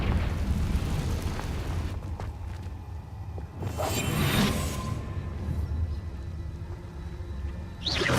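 A fire spell explosion in Hogwarts Legacy: a deep rumbling blast with a whooshing burst in the middle, a sharp crackling flare near the end, and a low roar sustained underneath.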